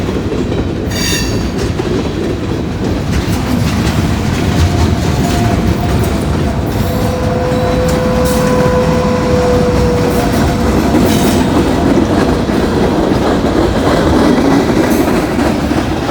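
A freight train with DPU locomotives passes while changing tracks and being pushed uphill. Its loud, continuous rumble carries rhythmic wheel clatter and faint metallic squeal tones, close and dominating throughout.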